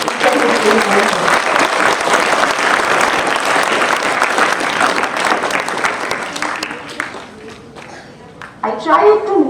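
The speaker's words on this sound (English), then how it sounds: "So let's clap for every teacher who came here." A crowd at a school poem recitation and speech competition claps for the teachers in loud, sustained applause that gradually thins and fades, then a speaker's voice comes in near the end.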